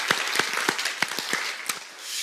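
A church congregation claps for its choir during a Sunday service, a moderate round of applause with some sharp individual claps standing out, steady for about two seconds and then thinning.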